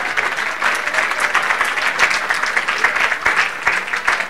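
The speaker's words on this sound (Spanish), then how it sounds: "un aplauso" A room of people gives a retired 89-year-old colleague a dense, loud round of applause that stays steady from start to finish, with no talking over it.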